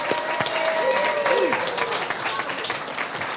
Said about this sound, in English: Let's give these great graduates another round of applause.